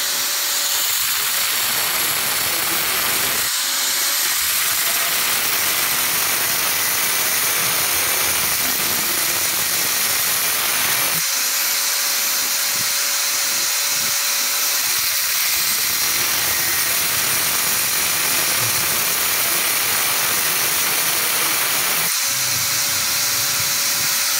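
Continuous harsh rasping hiss of a rubber damper bush from a Yamaha R15 motorcycle being ground down, running steadily and loudly with a few brief pauses and changes in pitch.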